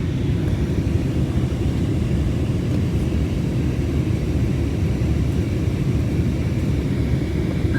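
Cabin of an airliner descending to land in Malaysia, with a steady, loud low engine roar and rumble filling the whole stretch, no voices.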